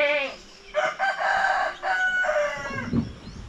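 Chickens, including laying hens, cluck and squawk up close, one bird giving a drawn-out crowing call, with several overlapping fowl voices throughout.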